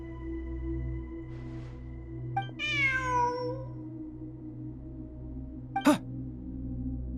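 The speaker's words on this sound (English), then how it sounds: "Look! A cat!" A cat in the video game Genshin Impact gives a single clear, drawn-out meow at mid-volume over a steady game ambience hum, followed by a short chirp-like blip.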